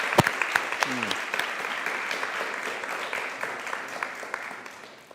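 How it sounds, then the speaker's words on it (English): A congregation in a sanctuary applauds warmly during a 100th-anniversary Flower Ceremony, a steady roomful of clapping that holds evenly, then thins and fades toward the end, with a brief voice near the start. "Let's give them another warm round of applause for."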